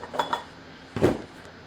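Metal muffin pans, used to mould sawdust fire-starter bricks, are handled, giving two light clinks followed by a louder clattering knock, close by and with no one talking.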